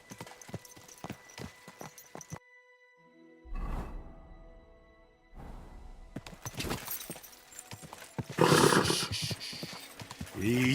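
Horse hooves clip-clop in the video game Kingdom Come Deliverance II. Rhythmic hoofbeats sound close at the start, then a pause with brief thuds, and a busier stretch of hooves and rustling follows. Voices talk over parts of it.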